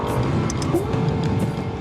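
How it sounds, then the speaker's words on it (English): A Lexus LFA sports car engine drones continuously with tonal revving and tire noise, close and steady, driving around a 1-kilometer test track. "checks the car's controllability, engine sound, power, braking performance, and vibration noise on the 1 kilometer track"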